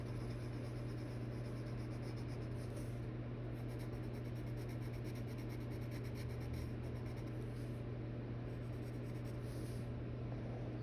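Soft wax-based colored pencil worked across paper in dark skin tones, a continuous close scratching rub under a steady hum, with faint strokes and no talking.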